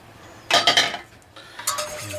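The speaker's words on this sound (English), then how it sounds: "Whisk that together." A whisk clatters against a saucepan while skim milk and flour are mixed, two short bursts of quick metallic clinking and scraping, close and clear.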